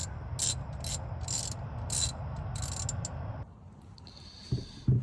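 A hand wrench ratchets in quick, close clicking bursts while pulling the starter motor from an old Toyota FJ60 Land Cruiser, then a quieter pause with a couple of light metallic knocks.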